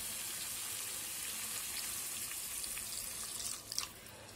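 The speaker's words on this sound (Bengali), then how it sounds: "এরপর আমি এর মধ্যে দিয়ে দেবো ছোট 1 বাটি উষ্ণ গরম জল।" A small bowl of warm water is poured into a spiced fish and potato curry with cauliflower, a steady close splashing rush throughout with a brief clatter near the end.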